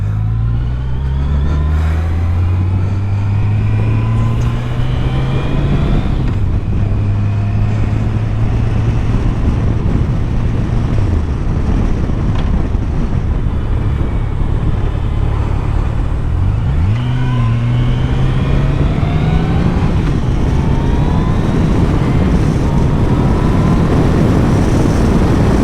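A 2023 Yamaha FJR1300 ES sport-touring motorcycle cruising in sixth gear, its engine a loud, steady low drone with pitch climbing through gear shifts, under heavy constant wind rush and with no talking.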